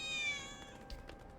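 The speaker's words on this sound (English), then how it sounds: "I think one of Betty's cats might be nearby." A cat meows once in Final Fantasy VII Remake, a short, clear, rising-then-falling call near the start, followed by faint ambient game sounds and soft thuds.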